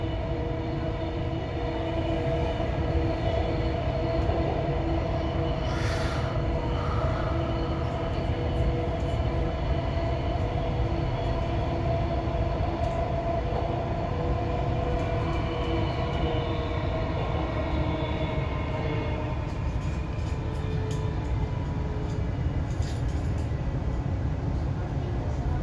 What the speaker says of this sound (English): This is a Redcliffe Peninsula train.